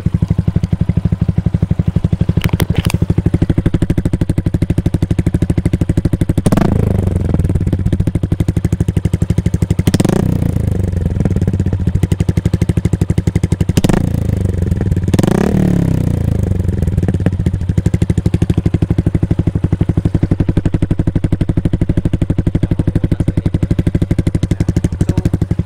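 A Suzuki Gixxer 155fi motorcycle fitted with an Akrapovic full-system exhaust and a dB killer idles loudly up close. A steady, throbbing burble is broken by three or four sharp throttle blips that rise and fall back to idle.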